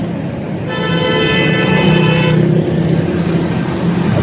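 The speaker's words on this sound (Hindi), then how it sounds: "तो गाड़ी आ गई।" A car pulling up nearby with a loud, steady engine rumble and a tonal horn-like whine partway through, close by.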